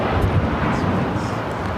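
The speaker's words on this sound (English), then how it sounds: "This is Japan Airlines Flight 69 taking off to Osaka on the 787-9 Dreamliner." Japan Airlines Boeing 787-9 Dreamliner taking off, a loud, broad, roaring jet engine rush with wind buffeting, sustained over a short stretch with no voices.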